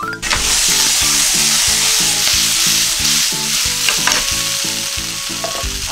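Pork, eggplant and green pepper cooking in a covered pan give a steady, loud sizzle with a regular pulsing bubble underneath and a few sharp pops.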